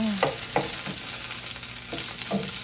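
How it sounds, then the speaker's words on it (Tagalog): Sliced onions frying in hot oil in a pan, a steady close sizzle broken by several scraping stirs of a utensil. "mainit na yung mantika natin. Saka natin ilalagay yung mga sangkap na sibuyas"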